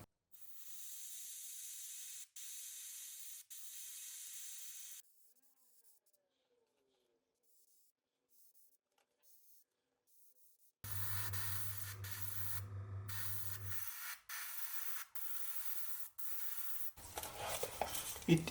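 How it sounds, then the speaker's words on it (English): Airbrush spraying finishing surfacer primer onto a 1/48 ICM MH-60L DAP Black Hawk model kit: steady hissing bursts with pauses between them, then quiet, then louder spray passes mixed with a low hum and rubbing noises. "load the airbrush with some good finishing surfacer and"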